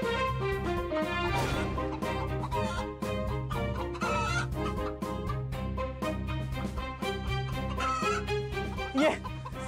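Chickens cluck and squawk in agitated bursts as someone tries to catch them, mixed with busy background music and a few voices throughout.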